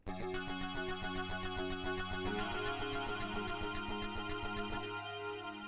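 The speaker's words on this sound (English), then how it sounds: "I could try doing a sort of like descending line on this side of the keyboard while I play my root notes" A Sonicware Liven 8bit Warps synth plays a stepped descending melodic line over steady repeated root notes, bright and buzzy with a regular pulsing rhythm, loud and close with no talking.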